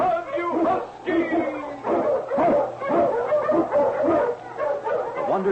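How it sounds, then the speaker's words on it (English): An Eskimo husky lead dog barks and yelps in a radio drama set in the Yukon snow, with loud, repeated calls that come in bursts throughout. "The Wonder Dog King, swiftest and strongest of Eskimo lead dogs, blazes the trail through storm and snow for Sergeant Preston"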